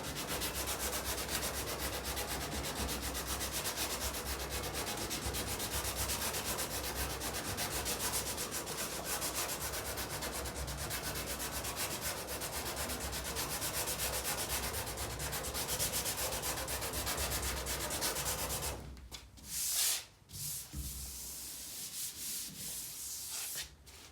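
Hand sanding on the steel body of a 1936 Ford Tudor street rod, a steady close rasping scrape that runs continuously for most of the clip, then breaks into a few short strokes near the end.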